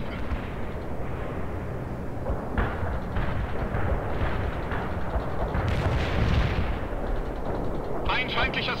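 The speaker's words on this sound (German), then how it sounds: "Schön, dass die Flakgeschütze wieder im Einsatz sind, Lieutenant." Anti-aircraft guns firing in World in Conflict, dense rapid booming bursts and rumbling blasts rolling continuously under someone speaking German, with a crackling rattle near the end.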